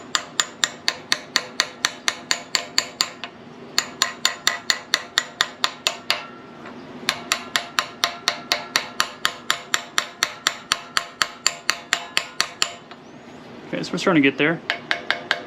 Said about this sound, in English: we're just letting the hammer do the work.